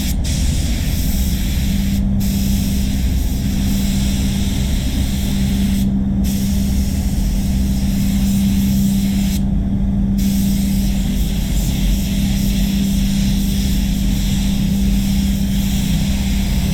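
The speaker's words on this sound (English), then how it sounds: "only with the candy I'm doing the edges on this second coat" A spray gun hisses continuously as it lays a candy paint coat along the edges of a Mazda CX-5 during a respray, loud and close, with brief pauses in the flow.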